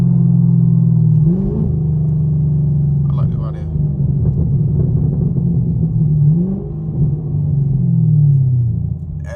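A straight-piped Chevrolet Camaro SS on its factory tune idles with a loud, rumbling exhaust, then blips its revs briefly several times, each rise falling back to a deep burble.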